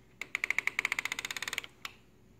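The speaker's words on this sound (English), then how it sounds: "We're going to listen for the difference between the gear clicking" A rotating irrigation sprinkler head's gear clicks in a quick, even run of about twenty sharp ticks. It stops, then one louder click follows. The sound is close and clear, with no talk over it.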